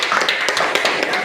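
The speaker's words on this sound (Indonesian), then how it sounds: "Kita beri tepuk tangan untuk kelompok" Students in a classroom clapping for a group that has just presented, a brisk run of many hand claps, close and loud.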